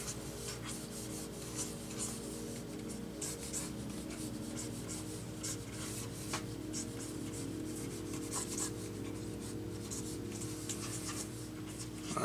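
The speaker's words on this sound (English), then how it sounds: "I'm using the tilt now, and I'm just gonna do a quick sketch" A pen sketches on a Wacom Cintiq 16 drawing tablet, giving a steady, close scratching and rubbing that runs for twelve seconds with small strokes and pauses in texture, quiet and without talk.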